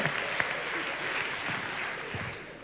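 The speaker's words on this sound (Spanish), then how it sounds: "que estáis aplaudiendo" An audience applauds during a talk on parenting, with fairly soft, steady, continuous clapping from a crowd.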